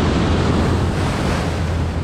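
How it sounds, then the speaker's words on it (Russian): A large Pacific Ocean wave surges and crashes onto the shore at a fishing spot, a loud, continuous broadband roar of surf with wind buffeting the microphone throughout, no voices. "Ой, большая волна."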